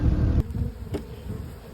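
Honey bees buzz in an apiary, a low droning hum that starts strong and close, then drops back to a softer, steadier buzz, with a couple of brief clicks or knocks along the way.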